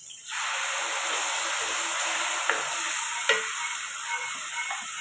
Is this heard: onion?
yes